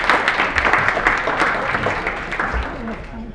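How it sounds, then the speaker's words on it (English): A conference audience at a UC Berkeley keynote on Israeli and Palestinian waterways bursts into dense, crowded applause, a continuous wash of clapping with a few murmured voices mixed in, tapering slightly at the end. "Let's give ourselves a round of applause"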